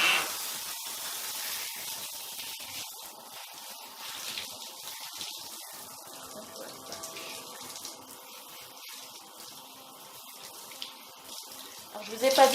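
Steady hiss of running tap water rinsing a hair mask out of long hair, close and continuous with slight splashing changes as the hair moves under the stream.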